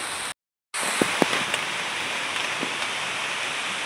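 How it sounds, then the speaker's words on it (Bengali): Continuous hiss of rain falling, with a few sharp taps of drops hitting a surface near the start. "আবার বৃষ্টি চলে এসছে"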